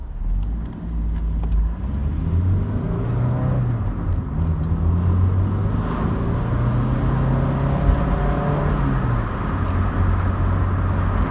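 A 1986 Vauxhall Cavalier on its standard exhaust drives along an evening lane, the engine a steady low drone that rises and falls through gear changes, heard close from inside the car with no talking.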